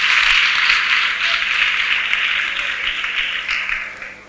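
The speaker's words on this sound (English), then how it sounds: "So let's clap for Savannah." Audience of students clapping at a school event, a steady wash of applause that holds loud and then gradually fades over a few seconds.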